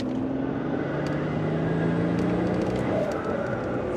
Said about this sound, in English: You can hear the turbos just ready to go,